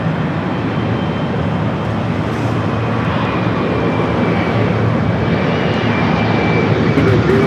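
An airliner powers up on runway 24 Left at Los Angeles International Airport for takeoff, a loud, steady broadband jet roar that holds for the whole stretch and swells slightly toward the end, with no other sounds standing out.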